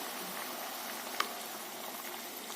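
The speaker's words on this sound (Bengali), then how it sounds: "টকবক করে ফুটছে" Curry sauce bubbles in a pan at a soft, steady simmer, with faint continuous popping and one small sharp pop partway through.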